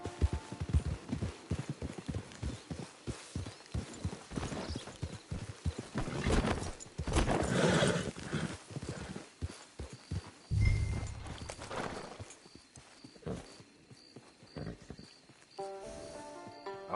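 Horse hooves clip-clop in uneven walking rhythm in the video game Red Dead Redemption 2 Online, close and fairly clear, with scattered thuds, a brief low snort or whinny, and quieter ambience toward the end.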